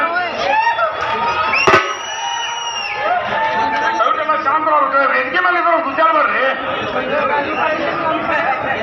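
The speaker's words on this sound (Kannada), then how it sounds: "ಜೋರಾದ ಚಪ್ಪಾಳೆ" A large crowd at a cinema hall in Hubli cheers loudly during an actor's visit, with sustained whooping, shouting and dense chatter throughout and one sharp burst near the start.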